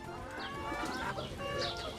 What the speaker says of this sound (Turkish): Bir sürü horoz var.